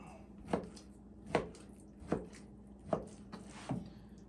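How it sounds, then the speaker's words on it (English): A knife chopping through wild pork fat on a board, five evenly spaced close thunks at a slow, steady rhythm, quiet overall with no talking. "I'm just gonna cut that up."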